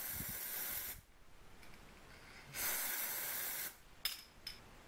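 Glue sprayed from an aerosol can into a cup for slime making: two sustained hissing bursts of about a second each, then two short sharp puffs, close and fairly loud.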